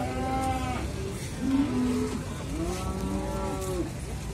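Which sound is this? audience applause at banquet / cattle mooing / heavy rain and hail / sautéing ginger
cattle mooing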